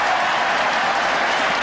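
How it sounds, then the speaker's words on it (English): A large stadium crowd at a 1984 Penrith Park rugby league match between Penrith and Parramatta roars and applauds in a steady, dense wash of noise throughout. "the crowd roars at these grounds every time flash scores come through from other grounds"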